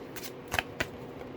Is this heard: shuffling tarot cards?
yes